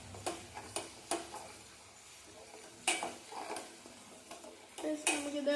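A ladle stirs pasta in a pot of boiled water, making scattered metallic clinks and scrapes against the pot, some sharp and close, with short quiet gaps between them.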